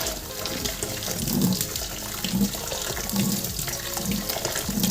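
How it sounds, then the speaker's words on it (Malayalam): Tap water runs and splashes over cooked rice held under the faucet for rinsing: a steady nearby gush with rhythmic surges as the rice is swirled, no speech. "എന്നിട്ട് പിന്നെ പൈപ്പിൻ്റെ ചോട്ട് വെച്ചിട്ട് നല്ലവണ്ണം വെള്ളം ഒഴിച്ച് കൊടുക്കും"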